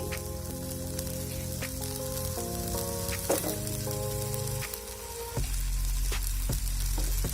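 Boiled jackfruit going into a hot pan, a continuous soft sizzle with scattered crackles and a few light clinks of a utensil against the pan, faint and close.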